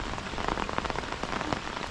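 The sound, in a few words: heavy rain falling by a village pond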